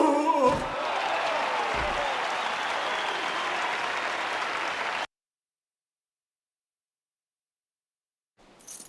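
A crowd in the video game Jade Empire roars with dense applause and cheering for about five seconds, loud and steady, before cutting abruptly to silence and a faint return at the end.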